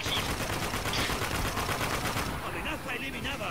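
Turret gunfire in the war shooter game Spec Ops: The Line, a dense rapid stream of shots under game noise and a voice talking, the burst thinning out toward the end.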